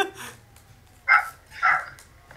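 A dog in GTA V gives two sharp barks close by, preceded by a faint yelp, against a low background hum.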